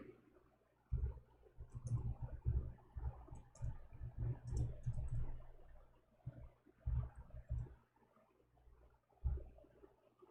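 Typing on a computer keyboard, close and quiet, with irregular clusters of soft key clicks and short pauses between them.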